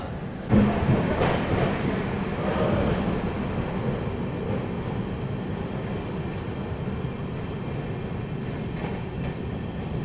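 An LHB-coach Netaji Express train pulling out of Bardhaman station, heard from inside as a steady low rumble and rolling wheel noise that continues evenly at moderate loudness without speech.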